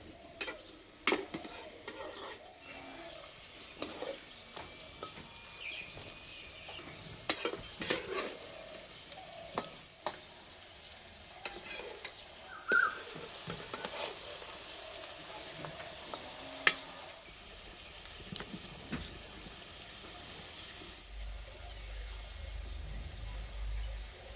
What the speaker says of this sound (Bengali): বেশ কয়েকবার উল্টে পাল্টে ভালো করে ভেজে নেব।